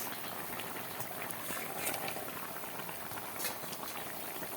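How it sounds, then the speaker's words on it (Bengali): Curry bubbling in a covered pot on the stove, a faint continuous simmering fizz with small popping bubbles, no voices. "দেখো তরকারিতে জাল উঠে গেছে"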